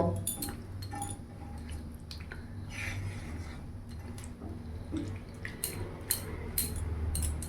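Kadai paneer gravy is stirred in a pan over a raised gas flame, restaurant style, giving soft wet squishing with light metallic clinks of the spoon against the pan, steady and fairly quiet, with no talking.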